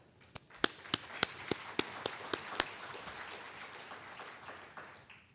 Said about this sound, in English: We need an applause for that.